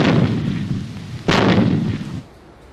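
A Sherman Firefly tank's 17-pounder main gun fires twice: two heavy, booming blasts roughly a second apart, each followed by a rolling, rumbling decay, with no voices.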